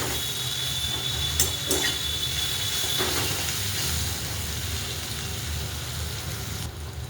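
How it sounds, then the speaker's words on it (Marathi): Onion, green chili and garlic fry in a pan with a steady, close hiss, broken by a couple of brief clicks early on. "कांदा आणि मिरचीचा खरेला भाजून निघतो. म्हणजे लसूण कच्चा आहे ना थोडासा, ते पण तळलं जातं."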